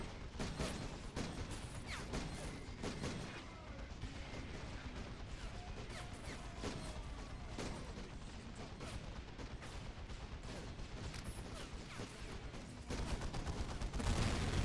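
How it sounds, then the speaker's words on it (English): Rapid gunfire and grenade blasts crackle without letup through a Warhammer 40k Space Marine battle, with dense overlapping shots, sharp bursts and heavier thumps filling the whole stretch at a steady loud level. "Oh, more grenades being thrown here."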